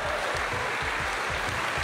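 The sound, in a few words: audience applauding at awards evening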